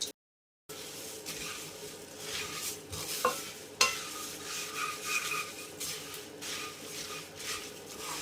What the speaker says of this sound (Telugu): అందులో మరమరాలు వేసుకుని మొత్తం బాగా మిక్స్ చేసుకోవాలి